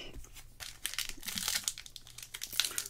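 Foil wrappers of trading card booster packs crinkle and tear open in close, quiet rustling bursts, a continuous crackly crumpling without any talk.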